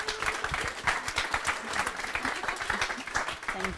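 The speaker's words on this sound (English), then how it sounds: "Can we give her a round of applause?" A round of applause from an audience at a meeting, with dense, even clapping from a roomful of people that holds steady throughout.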